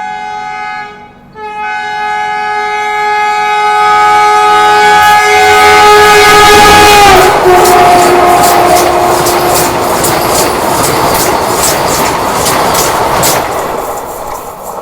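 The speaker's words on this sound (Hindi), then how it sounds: "यहाँ हमें वंदे भारत OT करेगी" A Vande Bharat express overtakes on the track beside a train waiting in a loop at an Indian railway station. A long, loud horn sounds first, then a close, roaring rush of wheels and clattering carriages goes by.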